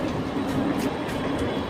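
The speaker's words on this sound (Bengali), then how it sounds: "এটা হলো বোম্বের লোকাল ট্রেন" A Mumbai local train rolls past with a low, continuous rumble of wheels and carriages. It is heard up close for a short stretch, with no break in the sound.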